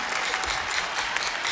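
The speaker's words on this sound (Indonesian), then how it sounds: "Tepuk tangan dulu dong." Studio audience applauding on a Muay Thai episode of an Indonesian TV game show: dense, steady clapping that fills the whole moment at even loudness, with no voices over it.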